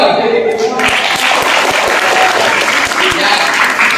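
School students at a character-building session clapping loudly as a crowd, with a few distinct claps up close and voices talking over the applause.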